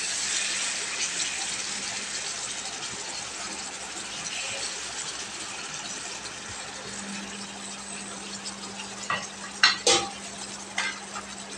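Ash gourd coated in mustard paste stirred in a pan, with steady soft scraping and faint sizzling throughout and a few louder utensil clatters near the end.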